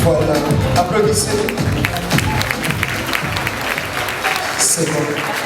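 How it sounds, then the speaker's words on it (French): Audience applause at a Miss and Mister RDC International pageant evening, steady clapping from a crowd sustained throughout, with some voices and music-like low tones mixed underneath. "Applaudissez."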